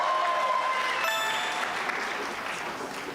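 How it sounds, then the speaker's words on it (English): Audience applause at a Chidon HaTanach national Bible quiz finals closing ceremony, a steady wash of many hands clapping throughout, briefly joined by a faint tonal hum, fading slightly toward the end. "Come on, a little bit more round of applause"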